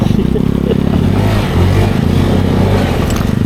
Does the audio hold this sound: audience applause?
no